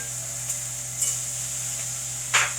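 Steak sizzles steadily in butter in a frying pan with rosemary, thyme and garlic, a constant hiss broken by a few brief spits and a louder crackling burst near the end.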